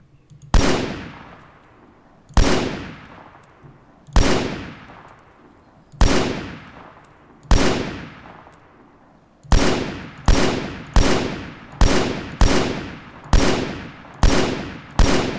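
Gunfire from weapons training in a video game: loud single shots spaced about two seconds apart, then a faster run of sharp, ringing reports that fire almost once a second, each with a long decaying tail.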